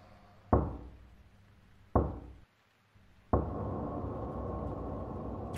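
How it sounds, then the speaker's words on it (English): Three sharp, heavy knocks strike a monastery door at slow, spaced intervals, each one ringing out briefly, and a low room hum swells after the last knock. "Three knocks."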